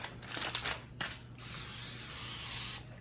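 A brisket is sprayed before going into a homemade smoker: a few short close hisses, then one long steady spray lasting over a second, with no talk.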